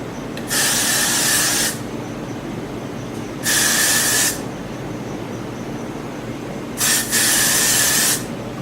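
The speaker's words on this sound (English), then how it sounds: "So I'm going to just gradually spray some and comb it in." Hairspray is sprayed onto hair while it is blended with a synthetic half wig. There are three close, hissing bursts of about a second each, with short pauses of quiet between them.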